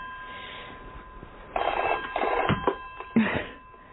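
An old-fashioned telephone bell rings in short rattling bursts in a quiet indoor room, fairly close and clear, in a radio comedy setting.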